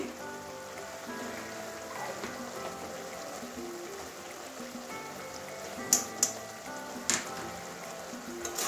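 Ghee sizzles steadily in a pan with cabbage curry, a soft continuous frying hiss with a few sharp spits near the end, heard alone without talk.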